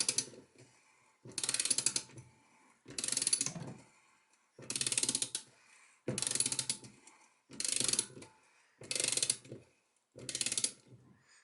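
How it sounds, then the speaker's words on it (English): A bolt on a SRAM XD freehub is tightened to 40 newton meters with a ratchet tool, eight loud close ratcheting bursts separated by short pauses. "we're just going to do the bolt up to 40 Newton meters"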